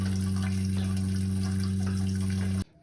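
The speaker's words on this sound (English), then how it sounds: "just going to run that water until it runs clear" Water running steadily from the taps into the sink and toilet of a 2016 Minnie Winnie 25B Class C RV during de-winterizing, a continuous close rush over a pump hum that cuts off abruptly at the end.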